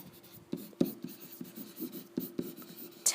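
Pen or pencil writing numbers by hand on paper, a series of short scratchy strokes and taps in an irregular rhythm, close and quiet with no talk.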